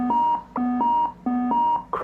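A ship's bridge navigation alarm in a simulator, giving a loud two-tone electronic beep pattern that repeats in regular pulses about every three quarters of a second, close and alone.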